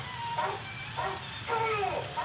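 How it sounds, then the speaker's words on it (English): A dog barks in a scene from a 1943 Frankenstein Meets the Wolf Man film, giving three or four short, moderately loud yapping barks spaced about half a second apart over a steady background hum. "Right now we're going to be introduced, I believe that's Lon Chaney's dog actually, Moose, who served as the stand-in for Bela"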